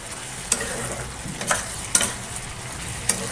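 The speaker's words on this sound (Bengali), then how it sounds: "আর এবার ভালো করে কষে নেব, কষে নিয়ে তারপরে জল দিয়ে দেবো।" Curry with spices stirred and fried in a hot pan, a steady low sizzle broken by a few sharp scraping clinks of the spoon against the pan, close and moderately loud with no talking.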